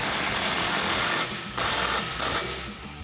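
An impact wrench with a 15mm socket tightens the exhaust clamps and hanger on a Ford F-150 EcoBoost muffler. It gives three close, loud rattling bursts separated by brief pauses.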